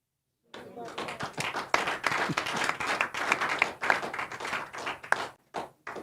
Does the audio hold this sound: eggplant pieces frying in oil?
no